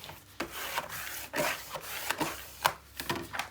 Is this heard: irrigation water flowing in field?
no